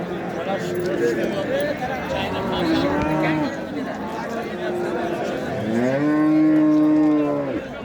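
Cattle low loudly at a Thursday livestock bazaar in Sariosiyo district, long drawn moos rising and falling, the biggest near the end, over the busy chatter of traders talking.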